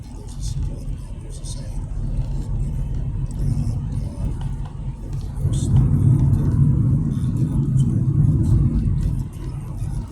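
Steady traffic rumble from cars on a city street in Ancoats, Manchester, growing louder and closer midway as vehicles pass near, with people talking over it.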